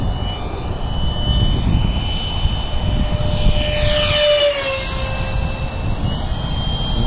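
F-15 model jet with a 64mm electric ducted fan running on a 4-cell pack, a loud steady turbine-like whine that sweeps in pitch as it makes a close low pass overhead, with no talking.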